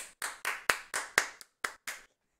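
Hand claps from a livestream audience after a sung national anthem, eight sharp separate claps in an uneven rhythm, close and fairly loud, with no talking.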